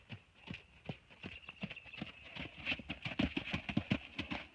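A horse being jogged in hand at a trot for FEI competition inspection gives rhythmic clip-clop hoofbeats on firm ground, steady and growing louder and closer as it comes back toward the listener.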